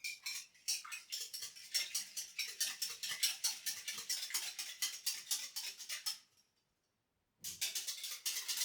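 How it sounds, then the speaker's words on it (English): A whisk beats pancake batter with melted butter and lemon zest in a bowl, making fast, rhythmic, close tapping strokes that pause briefly before resuming. "So whisk all of this together"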